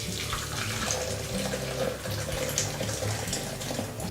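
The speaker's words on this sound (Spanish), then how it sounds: "Lo vertemos en un vaso batidor." Boiled chai is poured from the pot into a blender cup, a close, continuous splashing liquid stream that runs steadily for about four seconds.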